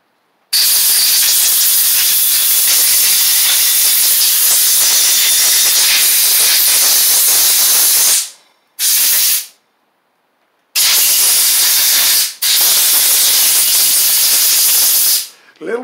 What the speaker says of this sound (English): Blow the crud off of it.